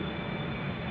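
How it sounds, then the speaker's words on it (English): A Boeing 777-300ER from Johannesburg arrives on runway 18R at Amsterdam Schiphol. It makes a steady, broad engine roar lasting about a second with no voices. "So this 777 arriving from Johannesburg"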